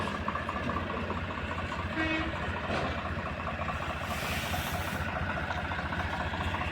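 A tractor pulling a trolley loaded with sugarcane runs steadily as it drives down a slope toward a road, a continuous low engine drone with rumble and hiss, fairly distant and even, with a faint voice at times.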